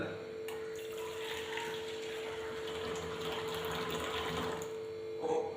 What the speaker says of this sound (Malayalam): ഇനി ഈ മിക്സിലോട്ട് നമ്മൾ ഒഴിക്കാൻ പോകുന്നത് അത്യാവശ്യം നല്ല ചൂടുവെള്ളമാണ്